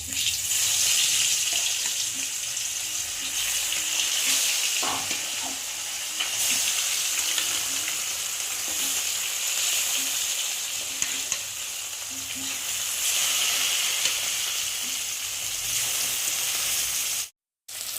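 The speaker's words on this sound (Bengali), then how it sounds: "আর এখন এই যে নুন মেখে রাখা মাছগুলোকে দিয়ে একে একে ভেজে নেব" Salted fish fry one by one in hot oil in a kadai, giving a loud, continuous sizzle with occasional clinks and stirring scrapes, briefly cut by a short silence near the end.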